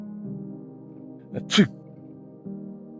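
A single sharp sneeze in a reading of Alice in Wonderland, set in a pepper-filled kitchen. It bursts out mid-clip over a low sustained musical drone, with a brief voiced lead-in before it.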